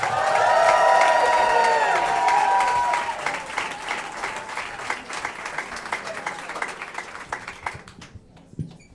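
Comedy club audience applauding and cheering, a dense sustained wash of clapping with whoops that peaks early and then thins into scattered claps before fading out.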